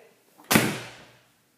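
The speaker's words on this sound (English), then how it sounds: "you want me to shut the door?" A single door shuts with a sharp thud that fades quickly, close by, with no talking.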